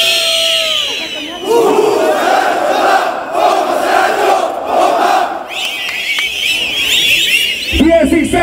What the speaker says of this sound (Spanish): Muchachos de la S, una bombita por el sin par Saracho.